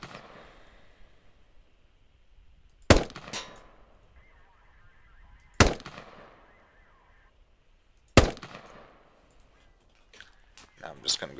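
Three sharp, loud M4 rifle shots fired at a target 100 meters out on an outdoor range, each a hard crack with a short ringing echo, spaced a few seconds apart with quiet between them.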